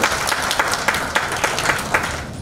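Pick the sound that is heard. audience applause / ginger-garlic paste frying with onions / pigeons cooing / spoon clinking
audience applause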